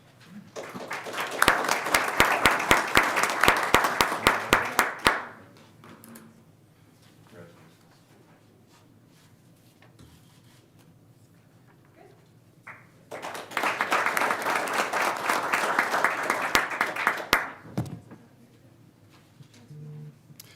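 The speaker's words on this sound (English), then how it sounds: "Let's clap for her, too." Audience applause at a city commission meeting, heard as two bursts of clapping about four seconds long, separated by a quiet stretch with faint room noise.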